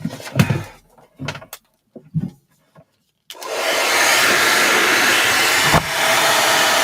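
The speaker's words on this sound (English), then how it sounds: "this is why I keep a hairdryer around" A few knocks and clatters, then a hair dryer switches on and roars steadily with a loud, even whoosh until the end.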